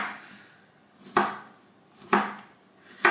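Three sharp knife strokes through key limes on a cutting board, spaced about a second apart, each a crisp close thunk followed by a short fade, with quiet in between.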